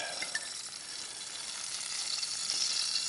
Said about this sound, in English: let it fry up and resist the urge to turn it